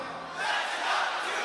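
A concert crowd at a show roars back in response, a broad, loud wash of many shouting voices swelling after a brief quieter moment and holding steady.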